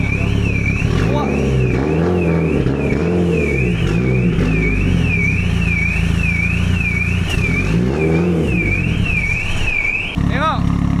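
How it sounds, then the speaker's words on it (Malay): An 800 hp Mitsubishi Evo 8.5 MR exhaust revving repeatedly in a steady rising-and-falling pattern with a blow-off valve hiss, loud and close, with a sharp sweep near the end; people talk over it. "Bunyi exhaust macam Pak Abu tengah berak"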